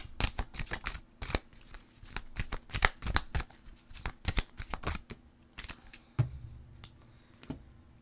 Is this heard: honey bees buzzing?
no